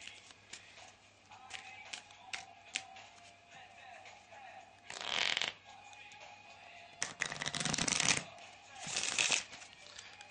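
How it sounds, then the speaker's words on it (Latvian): Someone shuffles a deck of playing cards for a card trick, with soft riffling and tapping under low talk, then several louder, longer riffle bursts near the end. "jūs viņus varat samaisīt cik vien daudz vēlaties"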